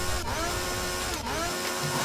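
Chainsaw in the zombie video game Zombie Alarm, a harsh steady motor whine held at full loudness throughout, with brief dips around a quarter second and just past one second, and no talking.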